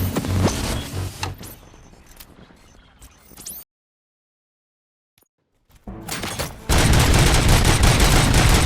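Bursts of rapid gunfire in the video game Robocop: Rogue City crackle loudly, then cut to silence before heavy, sustained shooting resumes and continues at full volume.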